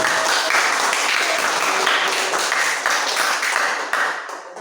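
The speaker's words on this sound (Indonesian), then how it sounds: "sekarang kita kasih tepuk tangan" Students in a classroom break into a burst of dense, steady applause that carries on for several seconds and then tapers off at the end.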